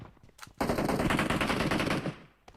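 Sustained burst of automatic gunfire in the mobile battle royale game PUBG Mobile, loud and continuous for about a second and a half after a few faint shots.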